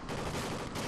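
A handgun fires in Call of Duty: Ghosts during a multiplayer match. The shots come as a quick, faint burst of gunfire within a dense, noisy game mix.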